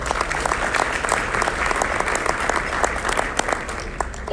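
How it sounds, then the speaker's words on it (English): Steady, dense applause from a luncheon audience thanking a sponsor, Prosperity Bank, filling the room evenly for several seconds with no voices over it. "Let's give them a round of applause as well."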